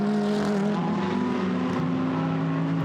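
GT race cars, a Jaguar and a Porsche, roar past on the Monza circuit. Loud, sustained engine drone with steady harmonic tones stays close and continuous throughout, with no talk.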